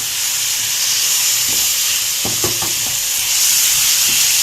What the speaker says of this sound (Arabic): هقلب تقليبة كويسة